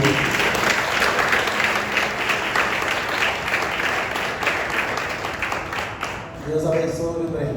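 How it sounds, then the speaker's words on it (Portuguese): A church congregation applauds warmly during a sermon, a loud, continuous burst of clapping that tapers off before a voice begins speaking at the end. "Eu queria pedir para os irmãos aplaudirem Jesus na vida desse casal aí"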